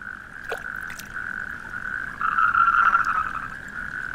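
A steady chorus of endangered toads croaking on industrial wasteland between the Rhine and Ruhr in Germany, a continuous trilling drone that swells louder near the end, with a couple of brief clicks early on.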